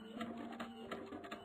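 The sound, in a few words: printer printing order details in video game The Splitting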